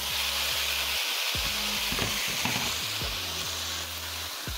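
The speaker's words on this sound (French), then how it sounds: "après on fait revenir le tout à la poêle" Drained pasta sautés in a frying pan, making a continuous sizzle and hiss with stirring scrapes and knocks, close and steady, alongside a low droning background hum.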